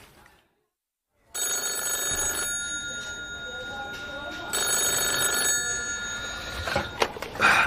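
An old-style telephone bell rings for an incoming long-distance call, loud repeated electric trills starting after a short silence and continuing for several seconds in an interior scene.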